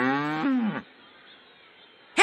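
A cartoon cow in a Sesame Street measuring video game gives one close, clear moo, followed by quiet and a short sound at the very end.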